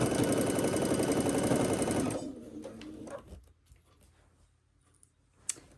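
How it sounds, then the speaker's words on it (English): A sewing machine stitching fabric runs in a rapid, steady whir for about two seconds, then stops, leaving faint clicks and handling noises from the fabric. "I'm just going to keep sewing."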